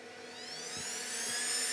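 A fume extractor fan on its higher of two settings gives a steady, loud whooshing roar with a high whine, rising slightly in intensity, running continuously with no voices.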